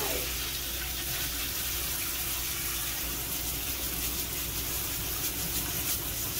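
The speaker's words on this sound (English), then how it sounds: "Just gonna rinse off the parts now." Running water from a tap rinses bike parts just pulled from an ultrasonic cleaner, a steady close gush that holds evenly throughout with no voices over it.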